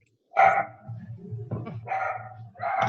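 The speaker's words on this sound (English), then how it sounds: "Sorry, that dog is talking over you." A dog barks several times in quick bursts, close by and fairly loud, with whiny vocal tones between barks.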